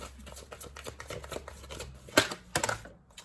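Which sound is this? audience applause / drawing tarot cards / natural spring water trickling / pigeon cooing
drawing tarot cards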